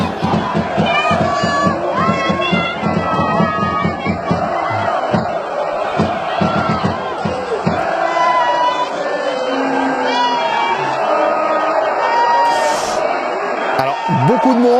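Large crowd of Paris Saint-Germain supporters cheering and shouting at Lionel Messi's presentation on a podium at the Parc des Princes, a dense continuous roar of many voices with rhythmic chanting bursts, loud and sustained throughout.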